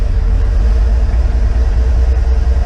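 The engine of a car that had been broken down and not running rumbles loudly and steadily close by, a deep, continuous drone with no clear rise or fall in pitch.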